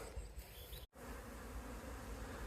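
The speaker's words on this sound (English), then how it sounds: "it's a European hornet. Look at the size of him." European hornet buzzing at the front of a beehive in a garden, a faint, steady insect drone that cuts out for a moment and then resumes, with no talk.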